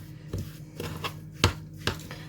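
A spoon stirs homemade pancake batter with sugar and salt in a bowl, making irregular, fairly quiet clinks and taps against the side, with no talking.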